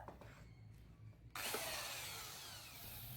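A power grinding bit whirs loudly and steadily as it cuts threads into the oil pan drain bolt hole of a Honda Grand Civic. It starts abruptly after a quieter stretch of low workshop hum, then holds a sustained, bright, rasping whine.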